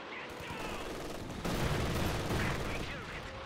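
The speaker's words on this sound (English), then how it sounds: "Katusha firing a barrage." A Katyusha rocket barrage in Company of Heroes 2 erupts as a dense, rumbling volley of launches and impacts that grows louder partway through, layered over constant battle noise with a voice speaking beneath it.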